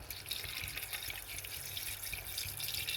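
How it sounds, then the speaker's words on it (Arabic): Water pours steadily into a cooking pot over cow trotters, a continuous close splashing rush that stays even from start to finish with no voices. "كنغطيو الكرعين ديالنا بالماء"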